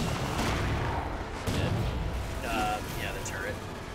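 Turret gunfire in Halo 4 thumps out in a few heavy, booming bursts amid battle noise, with voices talking over it.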